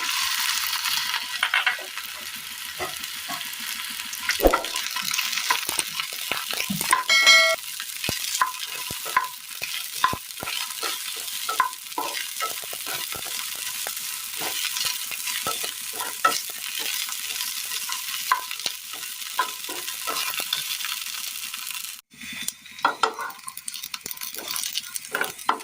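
Okra frying and being stirred in a pan, a continuous bright sizzle broken by frequent scraping and clinking strokes of a spoon against the metal, close and steady for the whole stretch.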